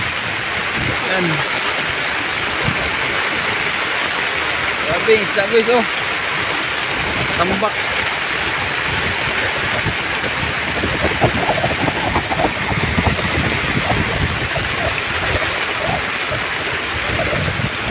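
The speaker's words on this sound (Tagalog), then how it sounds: "Grabe yung ulan guys" Heavy rain pours steadily on a fishing boat out at sea, a dense continuous hiss with someone talking intermittently over it.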